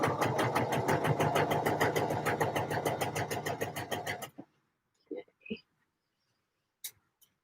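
A sewing machine stitching pieces of fabric together runs in a fast, steady needle rhythm for about four seconds, then stops, followed by a few soft clicks and handling sounds.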